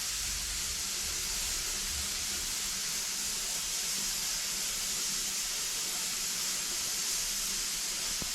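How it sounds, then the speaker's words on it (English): A continuous, loud hiss of steam venting from a pressure canner while canning bone broth, steady and unbroken throughout with no pauses or voices. "right now you can hear it, and I'm hoping you can see all that steam coming out"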